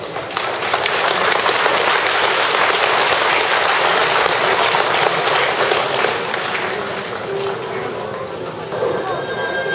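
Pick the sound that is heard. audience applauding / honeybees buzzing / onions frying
audience applauding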